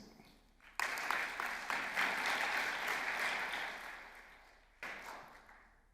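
A burst of clapping from a group at a formal ceremony with ambassadors starts abruptly, holds steady for several seconds, fades, then a brief second burst of applause follows.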